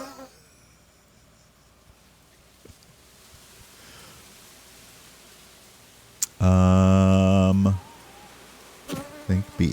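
Loud close buzzing of bees in a video game, a steady droning hum that swells briefly and then cuts off, with quieter buzzing bursts before and after and a voice speaking softly in the background.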